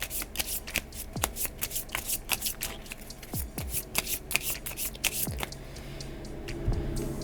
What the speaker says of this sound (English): And then I'll shuffle the discard and put it on top.